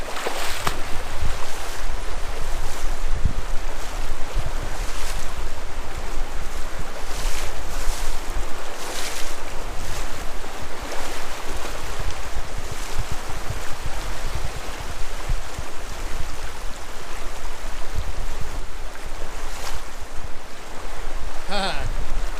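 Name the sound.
wading across a shallow river downstream of the crossing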